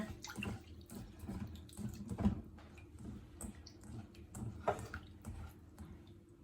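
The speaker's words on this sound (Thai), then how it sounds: "สาคูนะคะเราต้องเอามาล้างก่อนนะ ล้างเอาแป้งขาวๆออกก็ใช้น้ำอุณหภูมิธรรมดาล้าง" Sago pearls rinsed in room-temperature water, soft splashes and swishing with scattered drips and light clinks, quiet and close, starting and stopping irregularly.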